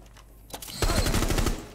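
Gunfire in the video game Rainbow Six Siege: after a brief crack, a rapid burst of close, loud automatic shots rattles off in a quick even rhythm, then fades.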